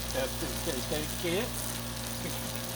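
A brunch sandwich cooking on a Blackstone griddle gives off a steady close hiss of frying under a voice, with a faint background hum throughout.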